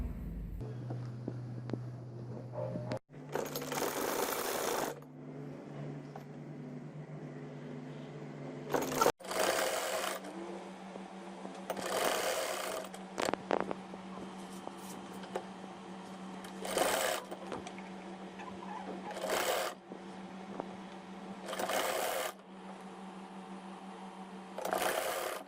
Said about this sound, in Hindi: चलिए अब सिलाई लगाते हैं।